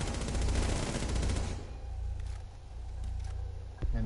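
Rapid gunfire from the Rainbow Six video game, a dense loud burst of automatic shots for about a second and a half, then quieter ambient game sound with a few faint distant pops.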